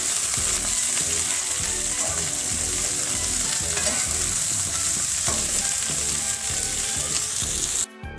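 Mixed vegetables frying and being stirred in a pan, a loud steady sizzle throughout with scraping stirs running under it and a brief drop near the end.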